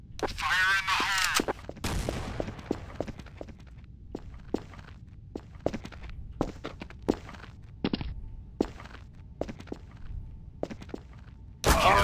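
Gunfire in Counter-Strike: Source, with sharp single shots scattered irregularly and footsteps, a louder burst near the start and another at the end; a voice calls out at the opening.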